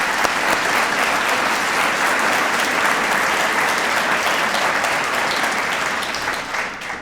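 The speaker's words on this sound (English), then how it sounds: "I'd like them to just raise their hands quickly so I can give them all a round of applause" Steady, loud audience applause at a joint SLCC and University of Utah Herriman campus ribbon ceremony, honoring deans, faculty and staff; dense, sustained clapping that fills the whole stretch and eases slightly near the end.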